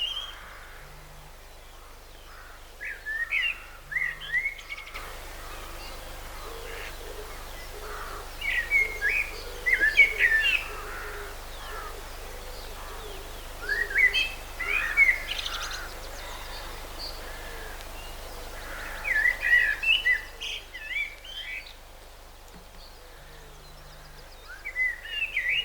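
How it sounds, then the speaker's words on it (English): Blackbirds singing along the River Ouse near York, repeated bright warbling phrases in bursts every few seconds over a faint low boat hum. "Blackbirds are giving it."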